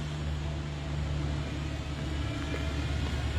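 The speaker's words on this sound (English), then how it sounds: "You can just hear the road behind. There's a big lorry in the road behind" A big lorry passing on a road nearby, heard from a nature walk behind a wall as a steady, distant low rumble and hum with no voices.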